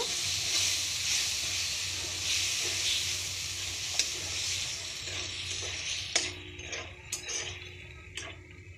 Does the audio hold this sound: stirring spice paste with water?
yes